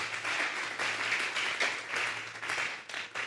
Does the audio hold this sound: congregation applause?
yes